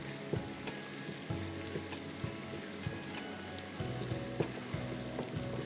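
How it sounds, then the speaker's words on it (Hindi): A cup of chopped onions fries in a pan with a constant close sizzle, punctuated roughly every second by soft stirring scrapes and knocks; no voices. "चॉप प्याज को हम थोड़ा सा हम फ्राई करेंगे"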